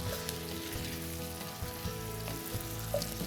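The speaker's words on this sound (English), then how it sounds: "Just stir this around." Sausage dip with Rotel tomatoes and chilies being stirred in a pan over medium-low heat, giving a faint, soft bubbling sizzle with light scraping.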